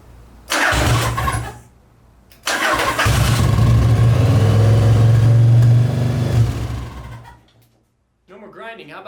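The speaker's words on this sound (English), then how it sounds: "I'm gonna try to start it up." A 1990 Yamaha XV1100 motorcycle engine cranking over once briefly, then starting and catching into a loud rumbling idle with a few revs before cutting off, then a voice speaking.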